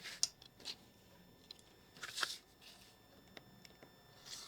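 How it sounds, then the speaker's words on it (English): Scissors cut out appliquéd fabric pieces for a butterfly oven mitt in a quiet room, giving faint, sparse snips and soft paper-like rustles at irregular intervals. "So I'm going to show you cutting those out."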